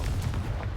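A Confringo fire-spell blast from Hogwarts Legacy gives a short, deep, booming burst that fills the moment, with no speech over it.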